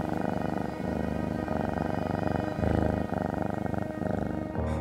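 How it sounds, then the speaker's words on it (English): A cat purrs steadily and close up, a continuous low rumbling drone with a regular breathing rhythm, alone and uninterrupted. "Cat owners know well, sometimes cats purr."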